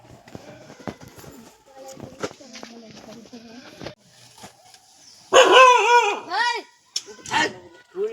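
A dog barks several times in quick bursts, loud and close, following a stretch of background chatter and household clatter.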